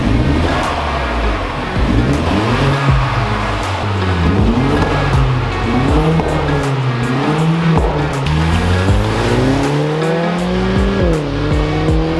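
A Hyundai Genesis drift car engine with a performance exhaust revs hard and repeatedly, its pitch sweeping up and down in loud, continuous surges with a raspy exhaust note throughout.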